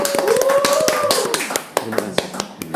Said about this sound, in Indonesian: Yang pertama ada Bapak Budi, tepuk tangan untuk Bapak Budi